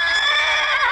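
A loud, close horse whinny rings out for about a second during a therapy riding session, its high wavering pitch clear and alone.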